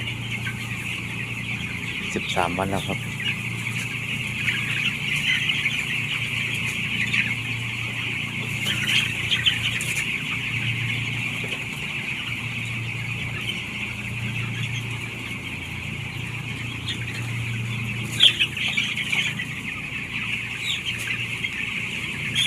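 Young 13-day-old chickens cluck and peep steadily throughout, a continuous flock chatter at moderate level with someone speaking briefly near the start.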